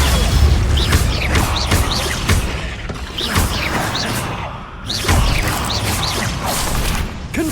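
Confringo fire-blast spells are cast repeatedly in the Hogwarts Legacy video game, a busy run of whooshes, bursts and crashing hits in quick succession, loud and close.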